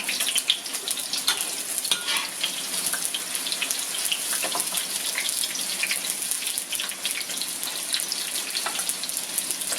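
Onion frying in used cooking oil with fish-smelling residue, in a Thai home kitchen making soap from recycled oil: a steady, dense sizzle and crackle that holds evenly for the whole stretch, with no one talking.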